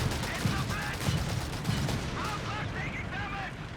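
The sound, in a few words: autocannon firing in Company of Heroes 3 video game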